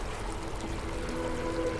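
Steady running water pours and streams in a level of the video game Deus Ex: Mankind Divided, a continuous close wash with no talk over it.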